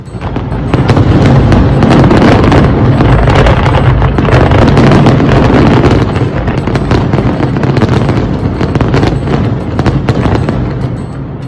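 A Guinness record National Day fireworks display in Al Ain, launched from 51 platforms, roars as a loud, dense, continuous barrage of overlapping bangs and crackles with no pause.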